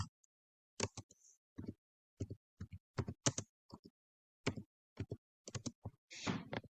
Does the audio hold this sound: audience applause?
no